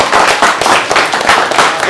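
Audience applause during a vote at a hackathon, a dense burst of many people clapping close and loud throughout.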